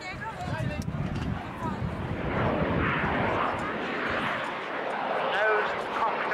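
Military jet aircraft passing at an air tattoo at a former air base, a steady broad engine roar swelling and holding with a distant, open-air quality, while an announcer talks over it.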